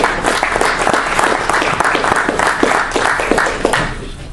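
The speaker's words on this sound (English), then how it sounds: "I appreciate the applause" A Rotary club audience gives a speaker a warm round of applause, many hands clapping in a dense, lively patter that holds steady throughout.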